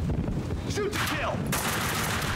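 Gunfire in Max Payne 2, with a quick burst of close shots and clatter, then a loud sustained blast of noise over the last second, with game voices mixed in.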